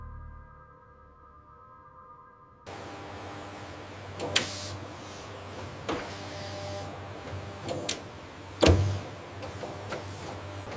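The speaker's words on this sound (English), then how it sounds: "Inside, the powerful emulsifier transforms the mixture into a silken," An industrial emulsifier blends pork liver pâté mixture in a factory, its steady motor hum running beneath clanks and sharp metallic knocks, one louder thump near the end.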